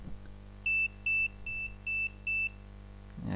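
An Arduino multifunction shield's piezo buzzer sounds five short, evenly spaced electronic beeps of about a fifth of a second each, clear and close against a faint steady hum.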